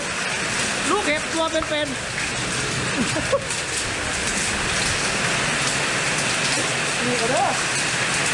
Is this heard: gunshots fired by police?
no